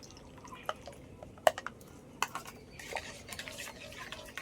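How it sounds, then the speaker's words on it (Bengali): Dissolved agar agar powder in cold milk poured into a pot of milk for homemade pudding: a soft liquid pour with faint dripping, mixed with sharp clinks of a utensil against the pot. "এবার যে আগার আগার পাউডারটা গুলে নিয়েছি ঠান্ডা দুধের মধ্যে এটা দিয়ে দেবো।"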